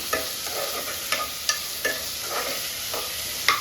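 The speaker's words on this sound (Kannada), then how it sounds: "ಈಗ ಟೊಮೆಟೊ ಹಾಕ್ತಾ ಇದ್ದೀನಿ ಒಂದು ಎರಡು ತೊಗೊಂಡಿದ್ನಲ್ಲ ಟೊಮೆಟೊ ಹಾಕ್ತಾ ಇದ್ದೀನಿ ಮಿಕ್ಸ್ ಮಾಡಿ" Chopped tomatoes stirred in a hot sizzling pan while making radish sambar, a steady frying hiss broken by several soft scraping stir strokes, close and alone.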